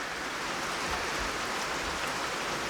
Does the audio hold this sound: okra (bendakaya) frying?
no